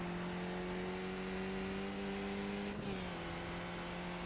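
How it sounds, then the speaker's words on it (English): Steady high-pitched engine whine from iRacing race cars on a road course, tires screaming, with a sustained tonal drone, loud and continuous, with a brief shift near the end as the pitch drops slightly. "You can hear the tires screaming in the background."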